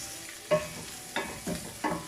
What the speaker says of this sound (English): I will be adding more garlic. Give this a mix.